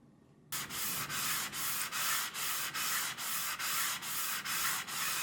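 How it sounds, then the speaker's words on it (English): Rhythmic back-and-forth sanding of grain-filled wood on a guitar body with a 240-grit sanding block, about a dozen even rasping strokes, close and steady. "take a sanding block with some 240 grit sandpaper and sand it"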